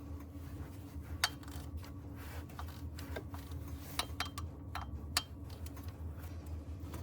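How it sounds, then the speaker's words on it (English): Water pump pulley bolts on a Chevy Colorado are cracked loose with a wrench, giving a few sharp scattered clicks and ticks over a quiet garage hum. "Go ahead and pop these off. Just get them cracked loose."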